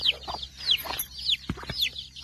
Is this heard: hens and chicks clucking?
yes